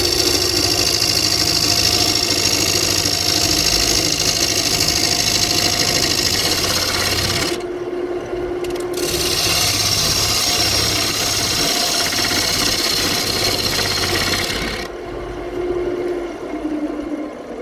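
A wood lathe runs with a loud, steady motorized drone while monkey pod wood turns, the tone shifting briefly as the tool engages and lifts off the spinning piece.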